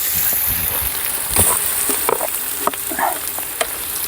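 Ginger garlic paste fries in a pan with a dense, continuous sizzle and scattered stirring scrapes, close and loud throughout.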